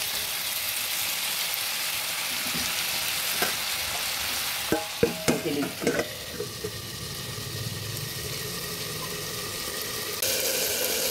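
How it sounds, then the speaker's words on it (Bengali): Tomato and sweet potato stirred and fried in a pan for a Bengali sweet potato tomato chutney, with a steady sizzle throughout and several sharp spoon clinks against the pan midway. "ভালোভাবে নেড়ে চেড়ে আবার কিছুক্ষণের জন্য টমেটো আর রাঙা আলুটা মজার জন্য দিয়ে দিচ্ছি।"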